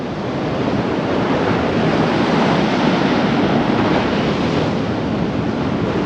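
Sea waves wash steadily onto a rocky shore, a loud, continuous roar of surf mixed with wind buffeting the microphone, with no voices.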